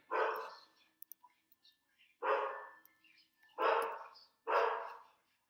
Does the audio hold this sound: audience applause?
no